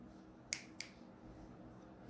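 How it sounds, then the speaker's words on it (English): Two crisp finger snaps sound close together near the start, sharp and fairly quiet over a faint background hum, with no speech. "whenever I yawn, then you can snap your fingers"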